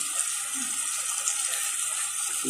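Tap water runs steadily into a kitchen sink or vessel while a spinach and chicken soufflé is being cooked, a continuous close hiss with no talking over it.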